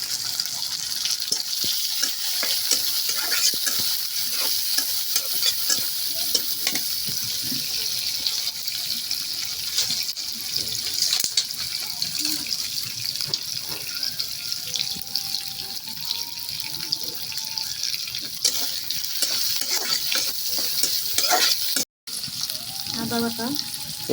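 Shrimp being stir-fried with chopped onion in a pan, a continuous loud sizzle with faint scraping from stirring throughout, with no voices.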